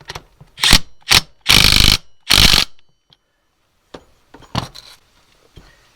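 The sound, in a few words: tightening bolts on an R34 alternator bracket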